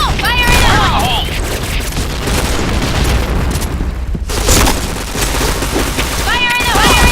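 Booming grenade blasts and crackling gunfire from the video game Point Blank, loud and continuous throughout, with brief radio-style voice chirps near the start and end.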